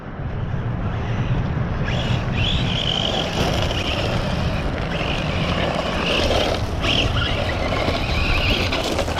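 A ZD Racing Pirates 2 brushless 1/5 RC buggy on a stock top-speed run gives a steady, sustained motor and drivetrain whine that holds loud and fairly close throughout, with no talking.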